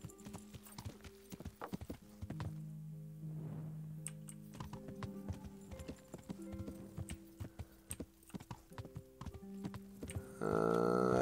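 Hooves of a horse ridden in the medieval game Kingdom Come Deliverance clip-clop in a steady, even rhythm, with faint ambient tones underneath and a brief snort partway through, ending in a louder swell.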